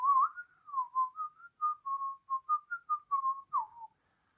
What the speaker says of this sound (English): So yeah, whistling, that's cool.